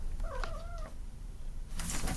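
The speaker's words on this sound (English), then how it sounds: "Sorry, there's a cat in the Christmas tree." A cat in a Christmas tree lets out a drawn-out meow over a steady background hum, followed by rustling and jingling noises, with no talking.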